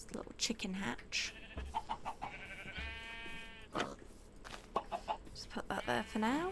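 Minecraft chickens cluck in short bursts, mixed with bleating sheep or goat calls and other farm animal sounds from the game, close and fairly loud, scattered through the stretch.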